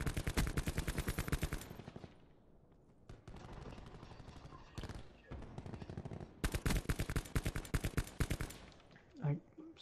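Rapid automatic gunfire from Call of Duty Black Ops 4, loud bursts of evenly spaced shots broken by a quieter gap before another long burst, with a faint voice near the end.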